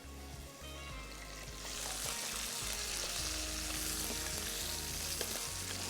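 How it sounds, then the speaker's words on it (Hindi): Chicken sautés in a hot pan for Kashmiri pulao, a loud steady sizzle and crackle of frying that swells as the pieces are stirred, close up with no talking. "इसको कर लेते हैं थोड़ा सौते"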